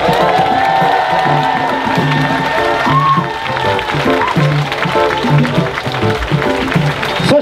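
Crowd at an outdoor election rally and music festival in Shinagawa clapping and cheering for Taro Yamamoto, a loud sustained wave of applause with scattered whoops over amplified background sound.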